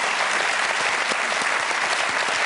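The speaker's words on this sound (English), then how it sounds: "it's the applause that ruins the trick" Audience applause follows a close-up card magic trick, a steady dense clapping from a nearby crowd sustained at even loudness throughout with no talk over it.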